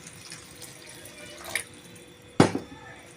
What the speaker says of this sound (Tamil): நம்ம தேவையான அளவு தண்ணி சேர்த்துக்கலாம்